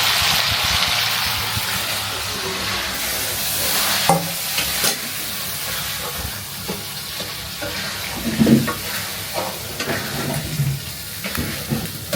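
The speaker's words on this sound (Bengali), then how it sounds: "এখন হচ্ছে আমি আলুটা আগে দিয়ে দিব, আলুটা সুন্দরভাবে কষায় নেব।" Potatoes cooking down with spices in a pan, a steady frying hiss broken by repeated spatula scrapes and clanks against the pan, with faint background household noise and no speech.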